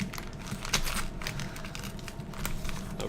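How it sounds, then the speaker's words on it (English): A wrapped beer can being slowly unwrapped, with close, continuous crinkling and crackling of the wrapping and a few sharper tearing bursts, steady throughout at low level. "Take me like half the video just to unwrap this."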